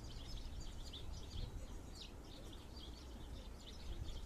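Sparrows and other small birds chirp faintly in a spring reedy spot, with scattered high tweets over a steady low background hum.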